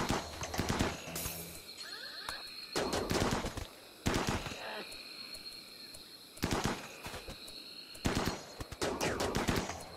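Bursts of gunfire in a video game, aimed at a polar bear, come in several separate volleys spaced a few seconds apart, each loud and sharp, with no talk over them.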